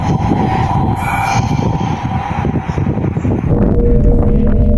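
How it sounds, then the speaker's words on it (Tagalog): A train rolls by close at hand, a steady loud rumble of wheels and carriages that holds without a break and swells a little toward the end. "Maririnig sa video ang tunog ng tren na tila malapit lang kay Ricardo."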